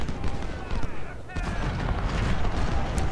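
Musket volleys crackle and boom continuously in a Civil War battle game, dense rolling gunfire with overlapping reports throughout.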